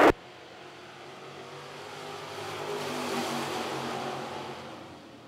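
Crate sportsman race cars run a heat race at Lancaster Motor Speedway, a steady roar of several engines that swells toward the middle and fades slightly, heard from a distance without voices.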